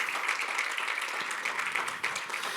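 Church congregation applauding during a Spanish-language service in Baltimore, a steady wash of many hands clapping at moderate level, fairly even throughout with no voices standing out.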